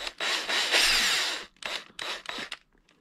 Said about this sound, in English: when you're using this as opposed to a drill bit, it actually takes a piece of the rubber out and removes it in a clean manner